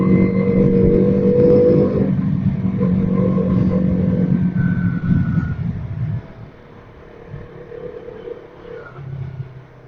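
Dense city traffic rumbles around a KTM RC 200 motorcycle as it rides, with loud engine drone and passing vehicles close by, then easing to a quieter, lower hum during the final seconds.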